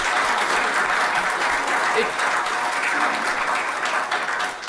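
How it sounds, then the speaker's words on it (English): A sustained round of audience applause at the KESS 2 annual awards event, full and steady for several seconds. A faint voice sits underneath the clapping. "Let's do a round of applause. A round of applause."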